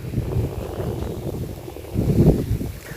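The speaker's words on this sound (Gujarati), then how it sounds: "પવન તો બહુ છે" Strong wind buffets the microphone at a farm field with a well, a continuous low rumble that swells near the end, with no speech.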